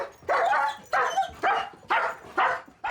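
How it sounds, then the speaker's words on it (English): Dogs bark loudly at visitors, about six sharp, close barks in a quick, regular series, each one bursting out and then cutting off. "First thing they do is bark very, very loud to warn the people off."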